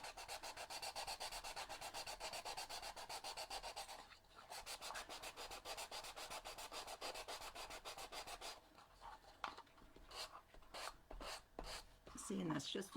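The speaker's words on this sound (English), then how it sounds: "Home stretch" Close, steady back-and-forth sanding strokes on a painted cardboard craft printable, a quick rhythmic scrubbing that pauses briefly, then resumes in slower, irregular strokes.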